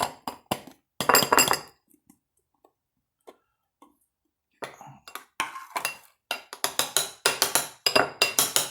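Cooked oatmeal scraped from a small pot into a bowl on a Sterno camp stove, with sharp metallic clinks and taps of spoon against pot in quick clusters, separated by a quiet gap, close and crisp.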